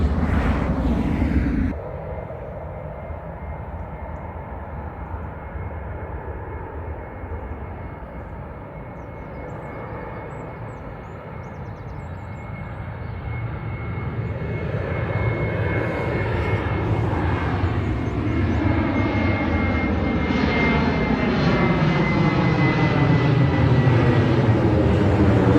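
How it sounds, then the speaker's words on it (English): A fixed-wing airliner makes its takeoff roll at Dublin Airport, its jet engines a steady, broad roar heard from nearby that swells gradually louder and fuller as it accelerates, with no voices over it. "Right, we have another airplane rolling here now."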